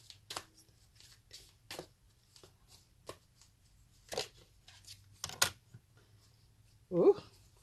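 Tarot cards being shuffled for a card pull, quiet papery riffles and slaps in short scattered bursts, nearby and soft, with a brief voice at the end.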